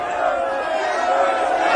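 An angry crowd shouting in unison as a dramatized Bible scene in Ephesus, a dense continuous roar of many voices at steady loudness.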